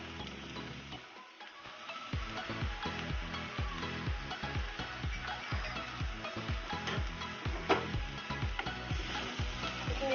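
Jackfruit curry with chopped tomato and salt being stir-fried in a pan, a steady sizzle broken by a regular rhythm of spatula scrapes and stirring strokes, close and continuous with no talking.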